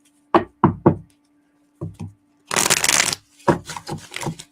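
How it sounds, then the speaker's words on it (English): Tarot cards being shuffled during a live reading: several short crisp taps and knocks of the deck, then a dense riffling burst and more sharp taps, close and clear with no talking. "right when I was shuffling"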